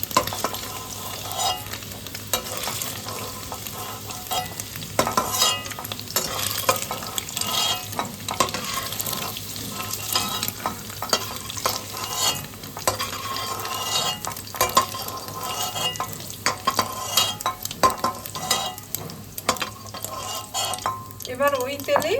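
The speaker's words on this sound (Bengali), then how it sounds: "এদিকে পনিরটা আমরা হালকা করে ভেজে নিলাম।" Paneer frying in hot oil in a pan while being stirred, with a steady sizzle, scraping strokes and occasional clinks of a utensil against the pan, close and continuous throughout.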